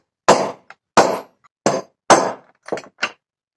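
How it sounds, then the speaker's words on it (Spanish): An old drill bit used as a punch is struck by a hammer to mark holes for the handle of a homemade plow-disc knife: four loud, sharp metallic blows about half a second apart, each followed by lighter taps. "Un buen martillazo."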